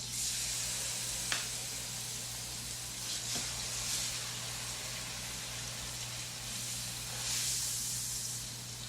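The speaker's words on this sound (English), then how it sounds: "And we'll go ahead and add in our fillets. You can hear them start to sear as they go in." Fish fillets laid into hot oil sear with a broad, steady hiss that swells and fades over several seconds, with a couple of faint ticks and no talking.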